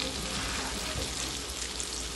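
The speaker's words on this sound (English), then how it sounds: "this needs to fry long" Popcorn fish fries in hot oil with a dense, continuous sizzle and crackle, close and steady throughout, with no talking.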